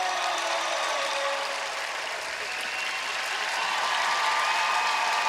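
A figure skating crowd at a free skate applauds in a broad, sustained wash of clapping, steady throughout and mixed with faint crowd murmur, heard from within the arena with no voices over it.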